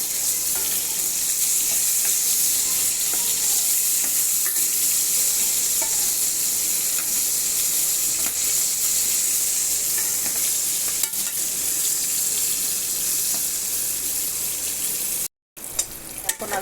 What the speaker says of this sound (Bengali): এখন আমি মাছগুলো ভেজে নিই। এখন মাছগুলো আমি উল্টে দিব।